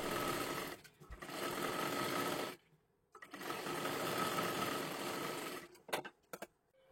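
Sewing machine stitching close along the edge of a piece of fabric, heard up close in two long, steady whirring runs split by a short pause, then a few brief stop-start bursts.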